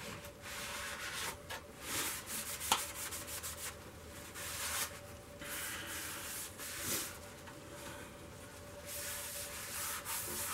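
Shop towel rubbing cold wax onto a green poplar wooden bowl, a soft continuous swishing and scrubbing in uneven strokes, faint and close under steady background hum, with no talk.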